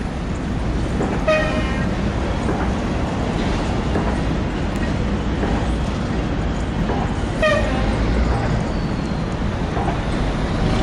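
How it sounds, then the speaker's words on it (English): A train hauling logs rumbles steadily past close by down the middle of a street, with brief horn-like toots and squealing tones rising over the continuous rolling noise. "the train goes right down the middle of the street"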